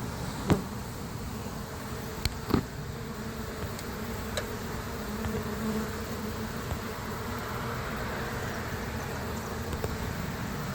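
Honeybees buzz at a hive trap-out setup in Lakeland, Florida, making a steady, fairly loud hum that fills the whole stretch, broken by a few brief clicks.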